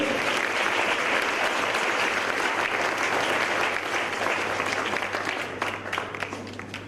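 An audience at a Northern Cape career guidance event gives a round of applause, dense and sustained clapping from a crowd, fairly distant, easing slightly toward the end.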